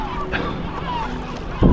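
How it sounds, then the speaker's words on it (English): Strong wind gusting over open water during stand-up paddleboard fishing, a rough rushing roar buffeting the microphone close by, with someone talking briefly. "Starting to get really windy."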